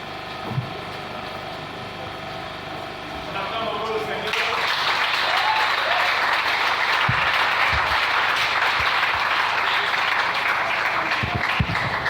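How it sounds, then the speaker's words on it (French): A congregation at a church service breaks into loud, sustained applause after a few seconds of talking, and the clapping continues as a dense, steady wash through to the end. "Nous acclamons pour la gloire du Seigneur."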